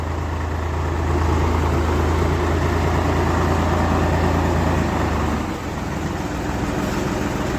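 A steady, low engine idle from a three-cylinder four-wheel-drive Solis 50 tractor rumbles continuously, loud and close, with a slight shift in tone toward the end.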